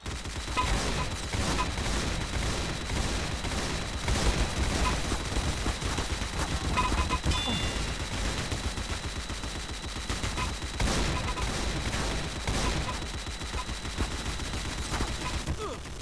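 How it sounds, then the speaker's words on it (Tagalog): Machine gun fire in the Roblox game TC2, rapid continuous bursts of gunshots that barely pause, loud and dense across the whole stretch, with a faint voice occasionally underneath. "dahil sa machine gun yun"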